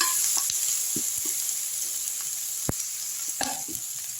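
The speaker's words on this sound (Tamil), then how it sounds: "இந்த வெங்காயம் தக்காளி வந்து நல்லா வதங்கணுங்க" Onions and tomatoes sautéing in oil for a street-style vada curry, a low steady sizzle with a few soft scrapes and taps of a spoon stirring the pan, no voices.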